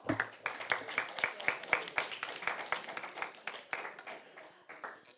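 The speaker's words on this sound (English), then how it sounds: "a huge round of applause for our judges this evening." An audience claps for the judges at the end of a school debate semi-final. The applause is a steady, close patter of individual hand claps that lasts about five seconds and fades slightly toward the end.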